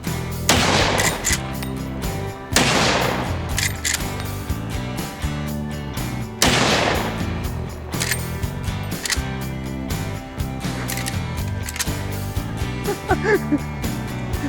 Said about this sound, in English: That's the third time I fired a gun.